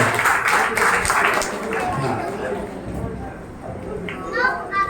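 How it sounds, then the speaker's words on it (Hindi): A welcoming round of applause at a Jain temple moral-education camp: clapping rises at first, then fades under lively children's chatter and play sounds. "तो तालियों से स्वागत पर चालू है।"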